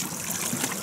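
Irrigation water in Kinnaur pours steadily through a hole in a built chamber, a close, continuous trickling and gurgling flow without breaks.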